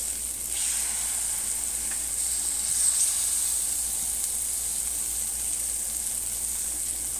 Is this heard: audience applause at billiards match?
no